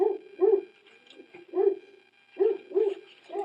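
A pet dog named Mia barks indoors in several bursts of two or three sharp woofs, separated by short pauses, fairly close and loud with no talk over it.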